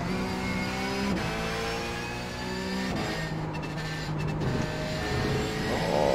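A Porsche 911 GT3 engine in the iRacing game at COTA revs and shifts gears repeatedly, pitch climbing and dropping in steps, loud and steady with a brief clatter midway.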